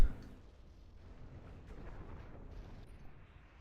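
Bomber bombs exploding in the strategy game Planetary Annihilation, a sharp blast at the start fading into a continuous low, rumbling roar of distant detonations with no talk.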